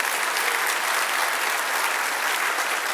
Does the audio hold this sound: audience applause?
yes